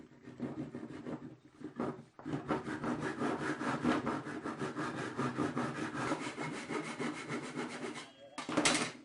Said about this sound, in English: I'm going to take my saw and I'm going to cut this out.